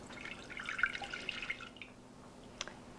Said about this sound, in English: the first thing I'm going to do is pour in my coffee,